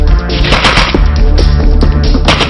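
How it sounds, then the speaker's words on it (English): A German Sturmgewehr 44 assault rifle in 7.92×33 mm fires fully automatic, producing a loud, continuous, rapid burst of closely spaced shots that fills the whole moment without pause. "Sturmgewehr 44. Type, semi or fully automatic assault rifle."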